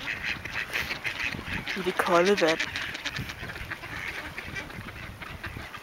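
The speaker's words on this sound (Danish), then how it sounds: "Derovre bader ænderne" Ducks in cold water let out a short burst of quacks, a few near calls in quick succession, amid Danish conversation and outdoor background noise.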